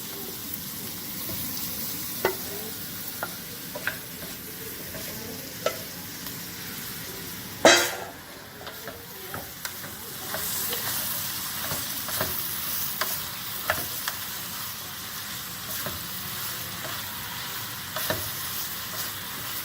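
Meat frying and browning in a pan sizzles steadily, broken by scattered scrapes and clinks of stirring, with one sharp knock partway through and the hiss swelling afterward.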